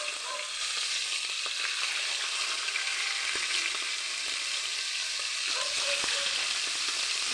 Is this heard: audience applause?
no